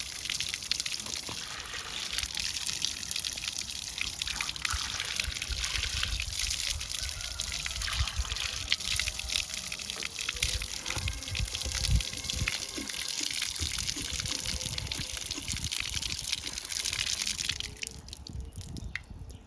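Clean drinking water in a village flows and trickles steadily close by, a continuous splashing gush with small drips, no voices.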